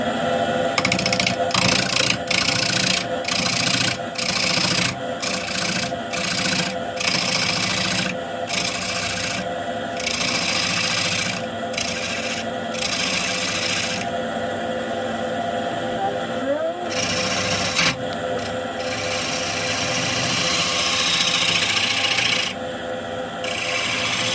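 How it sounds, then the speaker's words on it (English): A half-inch bowl gouge trues up the rim of a honey locust bowl on a lathe, giving a loud continuous scraping rasp broken by rapid rhythmic bursts as the cutting edge hits the uneven rim, with no talk. "So the first thing I always like to do is I like to true up the rim. So we're gonna use a 1/2-inch bowl gouge."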